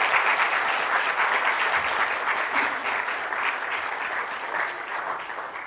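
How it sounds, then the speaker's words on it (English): A large audience at a founder's address gives a sustained round of applause for the student organizing committee, a dense, continuous wash of clapping with no gaps. "Please give a round of applause."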